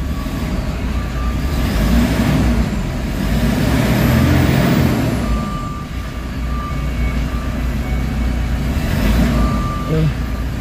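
Toyota Fortuner engine with wiring under repair, idling steadily and rising into a sustained rev with a brief dip, then holding, broadband and fairly loud throughout with no talk.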